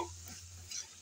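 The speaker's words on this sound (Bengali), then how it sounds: "আমি অনবরত এভাবে 3-4 মিনিট ধরে নেড়ে চেড়ে" Mutton liver stir-fried in a pan, sizzling steadily while a spoon scrapes and stirs through it up close, in one brief moment.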